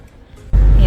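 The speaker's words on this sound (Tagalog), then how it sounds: "Ayan guys, kung naririnig nyo iba yung tunog ng sasakyan." A car engine cranks hard and labors to start in extreme winter cold in Canada, a sudden loud, dense rumble bursting in after a quiet moment and holding steady close by.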